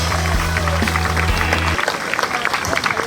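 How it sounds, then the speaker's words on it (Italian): Applause from the Miss contestants at a Miss Italia beauty pageant in Veneto: a burst of dense clapping rises over a sustained music tone, then the music stops and the clapping carries on alone. "La magia dell'applauso delle Miss"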